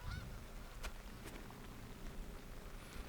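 Geese honking outdoors on a disc golf course, several faint, distant honks over a steady background hum.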